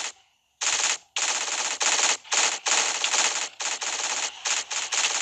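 Sustained machine gun fire from a zombie mode video game, loud and close, in long bursts separated by brief gaps after a short quiet start.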